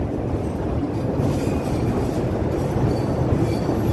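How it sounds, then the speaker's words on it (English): Chicago Loop elevated train rolling into State/Lake station, a loud steady rumble of wheels on the tracks with faint squealing, close by and without talking. "Don't follow this train as it heads right into the state lake station there."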